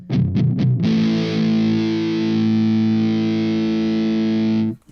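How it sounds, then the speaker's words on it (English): Guitar played through a fuzz pedal, a few short distorted picks followed by a loud sustained fuzzy chord that rings out for several seconds with a background hum, then cuts off abruptly. "So this is all, the breakup is just here on the fuzz pedal."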